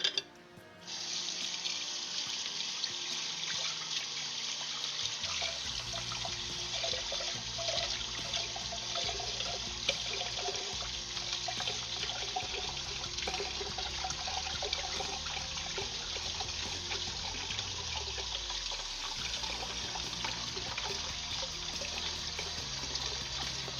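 Tap water runs steadily into a kitchen sink during a baking session while a spatula is washed under it, a loud continuous broadband rush that starts after a brief quiet moment and holds, with a low gurgle shifting near the end.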